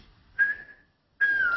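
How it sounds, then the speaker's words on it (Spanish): A person whistles two short, clear, steady tones, separated by a brief silence, sounding close and fairly loud. "Este silbido queda raro, no soy capaz de silbar una melodía."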